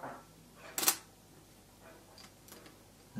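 The shutter of a Zorki 3 rangefinder camera, set to a slow speed during repair with the top cover off, fires with a crisp mechanical click, followed by fainter ticks and clicks of the mechanism.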